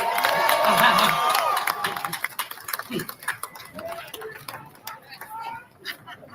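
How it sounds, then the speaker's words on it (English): A crowd at a reparations rally in Washington, DC claps and cheers loudly at first, then the applause thins into scattered claps over a couple of seconds. "give yourselves a round of applause for being here today"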